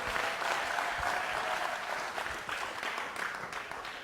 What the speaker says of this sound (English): There's a round of applause for our volunteers.